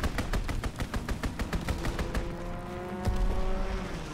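Rapid automatic fire from a World War II shooter game, a steady stream of close, sharp shots that slows and thins toward the end as a tonal engine-like hum rises underneath.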